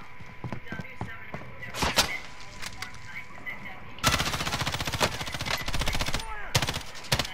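Gunfire from the Modern Warfare video game bursts out in sharp shots and then fast rapid-fire volleys. It sounds loud and close, with players talking in between.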